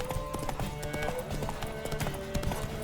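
Horse hooves clip-clop in a steady trotting rhythm in The Witcher 3, with game music and effects layered underneath and a voice faintly in the mix.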